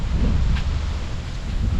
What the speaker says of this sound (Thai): ลมแบบเย็นๆเลยเนาะอากาศหนาวแล้วทุกคน